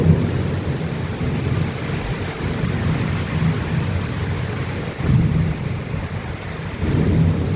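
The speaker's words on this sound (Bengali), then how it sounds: "দেখুন বাজ পড়ছে, কি জোরে জোরে বাজ পড়ছে বন্ধুরা" Loud thunder and heavy rain during a cyclone, a steady dense roar of rainfall with deep rumbling thunder swelling throughout and stronger bursts near the middle and end, with no one talking.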